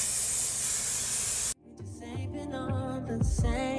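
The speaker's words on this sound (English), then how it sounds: "Now I'm gonna spray it with some Got2b" Got2b hair spray hisses steadily from an aerosol can onto a wig for about one and a half seconds, then cuts off abruptly, followed by quieter handling sounds.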